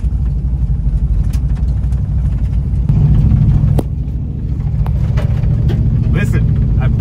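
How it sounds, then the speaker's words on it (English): An old Chevrolet Blazer drives along a dirt road, its engine rumbling steadily with loud low cabin drone and scattered rattles and clunks from the bumpy surface, continuous throughout. "the old Blazer's on a dirt road"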